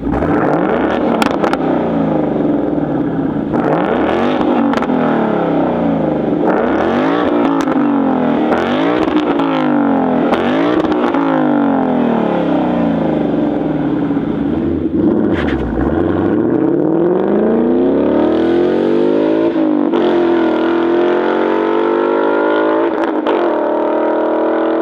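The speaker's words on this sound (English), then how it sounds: "all without muffling or congesting that rich exhaust note" A 2018-or-newer Ford Mustang GT with an aftermarket catback exhaust revs repeatedly, its deep V8 note rising and falling in sharp blips and sustained pulls, loud and close with no talk.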